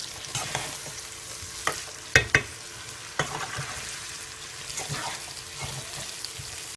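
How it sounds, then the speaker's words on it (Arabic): Dried beans fry in oil with garlic and onion in a home kitchen, with a soft sizzle underneath and a few sharp scrapes and clinks from stirring scattered through, loud and close. "وهنا تحمست الفاصوليا"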